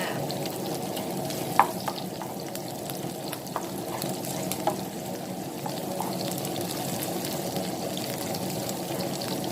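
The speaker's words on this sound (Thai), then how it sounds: "พริกกระเทียมกระปิผัดกระปิให้ละลายค่ะ" Chili, garlic and shrimp paste stir-fry in a pan, giving a soft steady sizzle broken by occasional scrapes and clicks of a utensil, close and moderately quiet with no talk.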